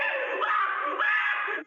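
A long, chilling, human-like scream from an owl, one sustained harsh shriek with a brief shift in pitch partway through, loud and close, with no talking.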